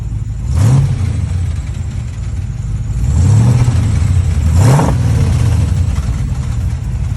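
A truck engine with low oil pressure idles loudly close by, rising in two rumbling revs before settling back to idle.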